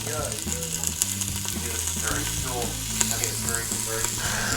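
Beef for broccoli beef browns in a pan, a dense, loud sizzle running underneath prominent tonal music with a few faint clicks.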